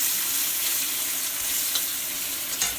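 Onions fry in mustard oil for an Assamese curry, a dense close sizzle with light stirring scrapes, steady and unbroken with no voices.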